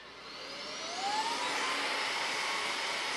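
A Fanttik V10 Apex handheld car vacuum runs close by with a steady airy whine that rises in pitch during the first second and then holds level, loud and alone.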